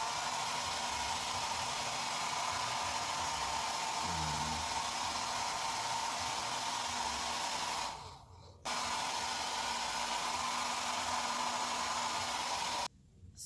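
A hand-held hair dryer blows steadily and close while drying a young girl's hair, a loud airy whoosh that cuts off briefly twice, with faint breathing or movement underneath.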